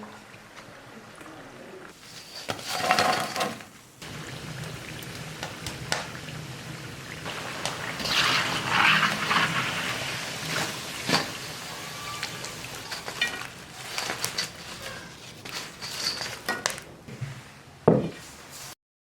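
Sweet potato cakes deep-frying in hot oil, a continuous crackling sizzle that swells and fades, with clattering kitchen knocks and scrapes around it and a voice talking at times.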